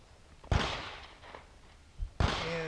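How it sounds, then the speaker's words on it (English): Handgun fired at shooting practice outdoors, two sharp reports about a second and a half apart, each with a long rolling echo and a steady wind or ambient hiss between. "I'm going to shoot a few rounds"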